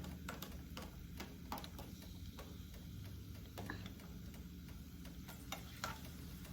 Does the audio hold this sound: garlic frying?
yes